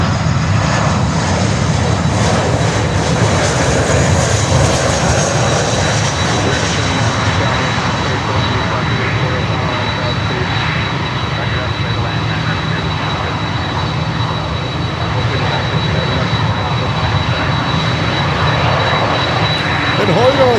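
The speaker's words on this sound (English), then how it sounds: "One is a 747-8 from Cathay Pacific." Cathay Pacific Boeing 747-8 jet engines at Miami airport give a loud, steady, broadband roar that holds for about twenty seconds with little change, like an airliner spooling or rolling nearby.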